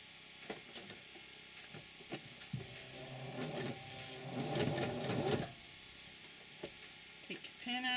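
Close, quiet stitching as a sewing machine runs binding tape onto buckskin moccasin uppers, with a short steady mechanical whir in the middle between slow manual stitches and small handling clicks.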